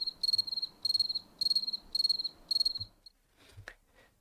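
Crickets chirp at night in regular pulsing bursts, five clear trilling groups close and crisp, then quieter scattered sounds as the chirping stops.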